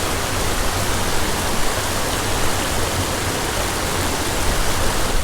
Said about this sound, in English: there's so much noise from the water, from the waterfalls, the little cascades and riffles